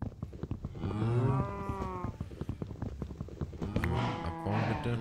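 Cows in Minecraft moo in long, drawn-out, close calls, two in a row with a pause between them, over soft background clicking and no speech.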